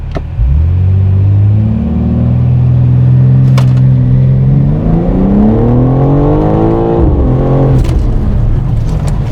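A car launches hard with launch control on Hoosier TrackAttack Pro track tyres, the engine note climbing steadily through the revs in one long, loud pull, with a brief shift break near the end and then rising again.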